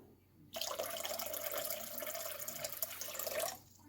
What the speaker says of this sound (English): So I'll add a little bit more hot water just to get that to the temperature I like